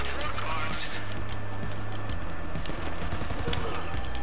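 Rapid gunfire crackles in Grand Theft Auto V, dense bursts of shots packed tightly together at a loud level, with someone talking over the shooting.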